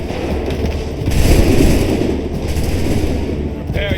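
Musket volley in Assassin's Creed III, a loud rolling crackle of many shots swelling together into a heavy rumble over a noisy battlefield background, then easing off.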